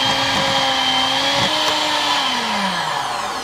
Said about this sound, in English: And we're gonna beat this until it's well incorporated.